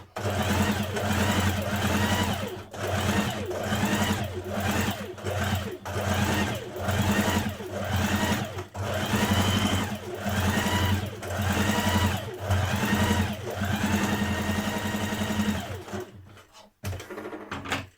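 Sewing machine stitching shirt-cotton patchwork fabric, a fast, close, rhythmic mechanical whir running in repeated bursts of a second or two with brief pauses, before stopping near the end.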